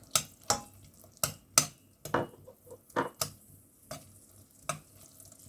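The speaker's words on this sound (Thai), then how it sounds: "ตอนนี้น้ำตาลเราก็เคี่ยวมาแบบละลายดีแล้วจ้ะ เสร็จแล้ว ใส่เนยลงไป ใส่เนยเจ็ดสิบกรัมจ้ะ" Butter goes into melted sugar for caramel, giving a soft sizzle under a spoon scraping and tapping against the pan in about a dozen distinct strokes, close and fairly quiet.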